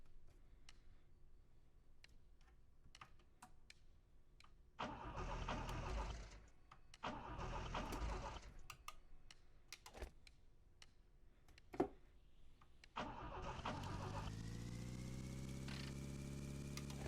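A car engine in The Long Drive video game cranks in several short bursts, then catches and settles into a steady idle, close and fairly quiet, with small clicks and ticks between attempts.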